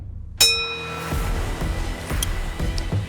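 A gong struck once during an ab workout, a bright metallic hit with a long shimmering ring that sustains under ongoing background sound.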